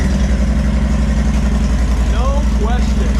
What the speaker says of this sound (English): And let's go ahead and start the bike.